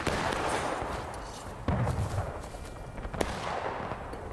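Scattered gunshots from enemies firing in a multiplayer shooter game, with sharp cracks around the middle and near the end over a steady rumble of battle noise, moderately loud.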